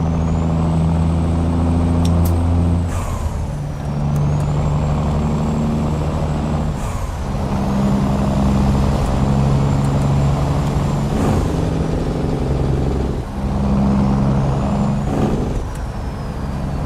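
Heavy truck engine in American Truck Simulator, a deep steady drone with low harmonic bands and repeated sharp bursts and pitch shifts, like engine braking and shifting, running loud and continuous throughout.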